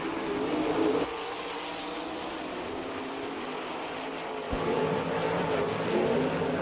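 Sprint cars in an All Star Circuit of Champions race on the dirt oval at Attica, Ohio, roar past in a steady engine drone that swells at the start and near the end, with no talk over it.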